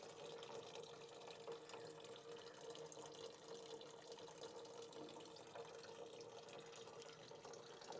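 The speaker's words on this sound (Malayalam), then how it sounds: "അപ്പോൾ അതിലോട്ട് വെള്ളം തിരിച്ചിട്ട് കാണുമ്പോൾ" Water runs steadily and faintly into a home fish tank, a constant trickling flow with no voices.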